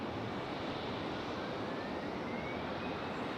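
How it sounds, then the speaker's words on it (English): A Delta CRJ regional jet taxiing at Raleigh-Durham airport gives a steady broadband engine roar with a faint rising whine, heard at a distance with no talk. "Got a Delta CRJ about to get a move on."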